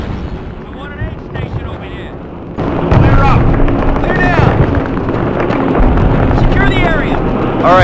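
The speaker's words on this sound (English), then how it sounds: "as soon as this bomb blows up" Bomb detonation in the World War II shooter game Call of Duty: a loud, dense blast lifts the sound sharply partway through, then keeps roaring with rumbling battle noise and aircraft-like drone, with voices talking over it.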